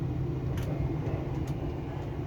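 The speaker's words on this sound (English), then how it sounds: "I'm on a train." Inside a moving train, a steady low rumble and rattle carry on throughout, with faint creaks and a couple of brief higher clicks, and no voices.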